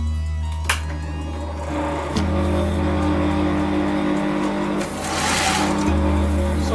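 An electric sewing machine stitches a fabric collar, running in steady motor-driven bursts with short pauses and speed changes, close and loud, with no talk over it.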